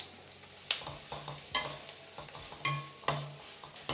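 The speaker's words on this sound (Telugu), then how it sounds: "ఈ ఉల్లిపాయలు కరివేపాకు ఇలా క్రిస్పీ అయిపోయి కలకలలాడుతుంది కదా" Onions and curry leaves sizzle in a pan while a spatula stirs them, giving repeated scraping strokes at an uneven rhythm over a steady low fry, close and moderately loud with no talking.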